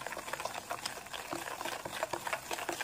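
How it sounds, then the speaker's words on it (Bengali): Powdered sugar and oil are mixed briskly together in a bowl, making rapid, rhythmic soft scraping and whisking strokes close by, with no voice. "গুঁড়ো করা চিনি আর তেলটা দিয়ে ভালো করে মিশিয়ে নিয়েছি"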